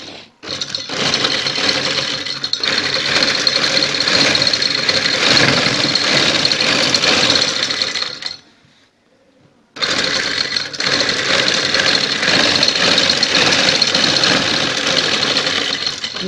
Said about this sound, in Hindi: किनारे किनारे पे सिलाई लगाएंगे।